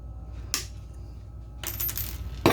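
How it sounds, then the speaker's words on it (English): Diagonal pliers snip excess wire off a stained-glass eye bolt: two or three sharp, bright metallic clicks and a brief ringing clatter, close and fairly quiet against a still room. "I'm going to take my diagonal pliers and cut off the excess."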